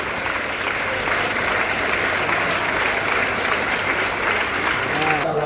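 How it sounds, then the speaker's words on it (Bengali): At a World Environment Day event where saplings are handed out to students, an audience claps steadily and densely for several seconds. "সকলকে আমি বলছি করতালি দিয়ে"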